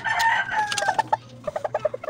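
A brooding hen sitting on a clutch of eggs clucks close by, first in a longer drawn-out call, then in a run of short, evenly spaced clucks that trail off.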